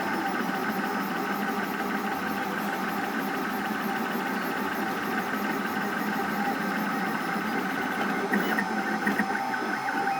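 A 3D printer from 2016 running Klipper firmware prints at high speed, around 200 mm per second, giving a loud, steady mechanical whirring and buzzing with a constant, busy hum throughout and no talk.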